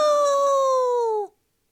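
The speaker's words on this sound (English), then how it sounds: "A loud growl bursts out from right behind me." Zombie growl in a video game, erupting loud and close right behind the player: one sustained harmonic, howl-like snarl that holds steady for over a second and then cuts off abruptly into silence.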